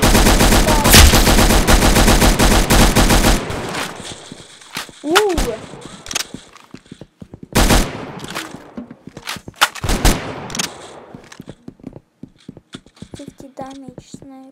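Rifle shots and automatic gunfire crack through a Roblox Arsenal match, starting with a dense rapid burst, then scattered single sniper-like shots and short volleys in a choppy irregular rhythm, loud and close.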